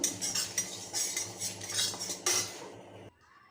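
A metal kadai wok clanks onto the stove, with a series of close metallic clatters and scrapes of utensils before the noise cuts off into near silence.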